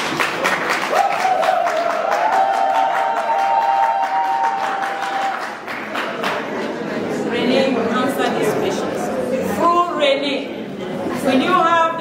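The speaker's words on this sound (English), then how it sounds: "Clap for them now." Guests at a civil wedding in Bamenda, Cameroon clap for the couple, a dense wash of applause and cheering layered with chatter and overlapping voices, loud and close, swelling again toward the end.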